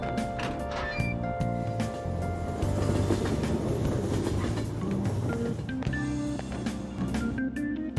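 A train rumbles through a station in Persona 5 Royal, a continuous heavy rolling clatter with tonal hums and faint chimes, loud and close, no voices.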